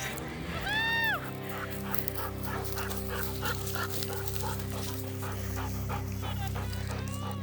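Hunting dog panting after a pheasant hunt in the field, with rapid breathy pants running steadily throughout at close range, mixed with a couple of honking bird calls early on and a low background hum.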